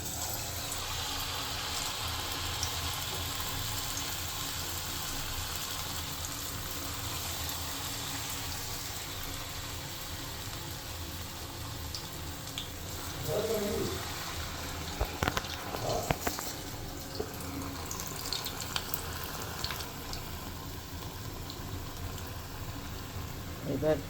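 Banana flower batter fritters slide into hot oil in a kadai, setting off a steady low sizzle with a few louder crackles and splashes as each piece drops in.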